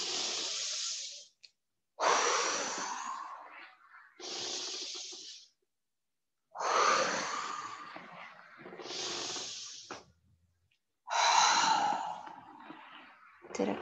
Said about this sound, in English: match your breath to your movement, inhaling to come back and exhaling to come forward